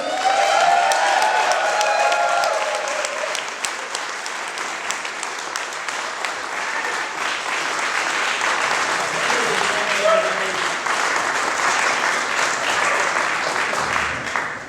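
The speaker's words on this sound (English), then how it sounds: "Give a giant round of applause for Mr. Tom Woods." Sustained applause from a large crowd, dense steady clapping with some cheering and voices mixed in, continuing for several seconds.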